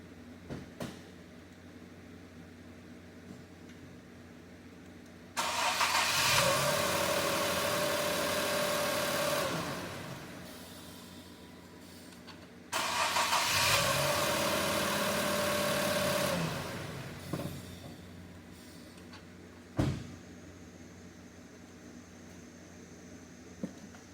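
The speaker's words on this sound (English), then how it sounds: "This is going to be the first crank with the scope and the new tube." An Infiniti Q50 being cranked twice by its starter, each a loud sustained whirring burst of several seconds, with a quiet gap between and a brief knock afterward.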